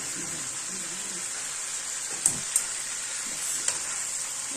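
Lamb liver fries in oil and lamb fat in a pan with a steady, close sizzle. A few sharp pops and clinks of utensils rise briefly above it.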